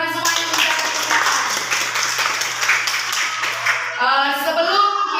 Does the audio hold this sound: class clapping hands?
yes